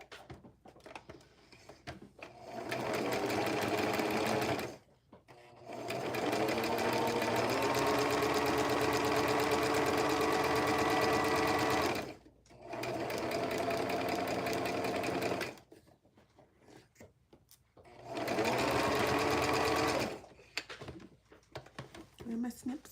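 A sewing machine stitches a half-inch seam on a Liliana vest in steady, loud bursts of a few seconds each, with short pauses between runs.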